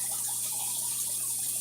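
Hot water runs steadily from a kitchen tap to be measured for pizza dough, a continuous close rushing and splashing with no voices.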